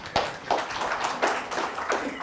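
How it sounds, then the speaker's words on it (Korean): A handful of scattered, uneven claps from a lecture forum audience, a few brief bursts rather than full applause, fairly close and moderately loud. "박수 한번 쳐주시고."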